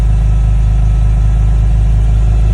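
2001 BMW M3 engine running through a Meister shaft exhaust, a loud, steady, deep exhaust drone heard up close without talk.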